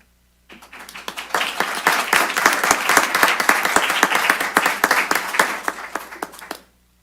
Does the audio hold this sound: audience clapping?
yes